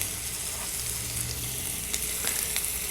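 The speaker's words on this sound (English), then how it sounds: "So the oil is hot. Let's pop in our ground up chilies." Ground chilies hiss and crackle in hot oil for a Mexican-style lunch, a strong steady sizzle with a few sharp pops and faint stirring scrapes near the end, with no talking.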